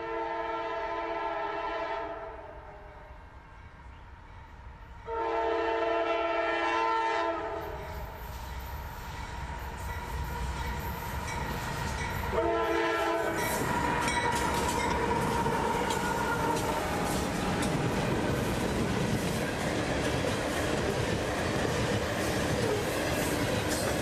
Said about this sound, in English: this train is marked as a Chicago to Tampa unit train